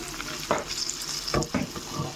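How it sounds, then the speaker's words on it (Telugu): Beef liver frying in a pan, with a steady close sizzle broken by several scraping stir strokes against the pan. "చూడండి ఈ విధంగా ఫ్రై చేసేసుకోవాలి మనం"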